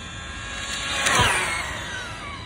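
An Arrma Vendetta 3S RC car runs at full throttle, its high-pitched electric motor whine rising as it approaches and falling away as it passes, one quick fly-by with no talking.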